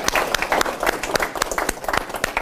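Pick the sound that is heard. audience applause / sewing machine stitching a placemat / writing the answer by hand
audience applause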